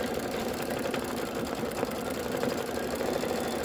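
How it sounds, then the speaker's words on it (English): Embroidery machine stitching a tulip placement line for a spring pennant, a steady close mechanical hum with a fine rapid needle rhythm running continuously, no voices. "we're going to stitch the tulip placement line"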